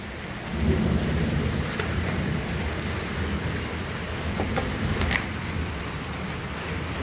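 Steady heavy rain pours throughout, with low rolling thunder rumbling beneath it; no voices, just a continuous wash of storm noise.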